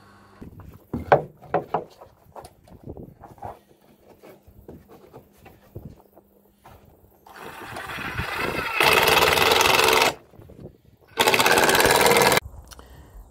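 Screws being driven through screw plates into wooden chicken coop walls. Light taps and handling noises come first, then two loud whirring bursts of a couple of seconds each, close by.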